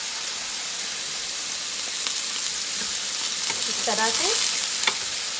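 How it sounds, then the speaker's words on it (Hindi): Chapli kababs fry in a pan over medium heat with a steady broad sizzle, a few clinks of turning, and a brief voice speaking near the end. "ये तकरीबन फ्राई हो चुके हैं।"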